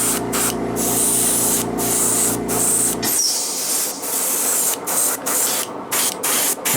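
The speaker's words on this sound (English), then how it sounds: "And Miss Compressor is being really talkative this morning." An airbrush compressor hums steadily for a few seconds, then gives way to repeated short hissing bursts of Vallejo Mecha paint being sprayed. The spray comes close and loud in uneven pulses.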